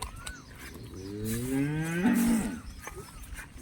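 A red-and-white patched HF cross cow, heavily pregnant and due within a week, lets out one long, close, drawn-out moo that swells and then fades against a quiet farmyard background.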